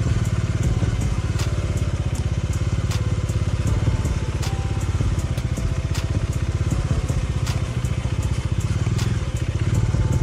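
Bajaj Dominar motorcycle engine running hot after hard throttle and braking on a muddy Rajmachi trail, a loud steady close-up chugging idle with rapid rhythmic pulses and sharp intermittent clicks and clatter.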